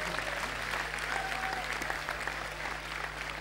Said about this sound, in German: Erstmal ein Applaus für die Hallenleitung.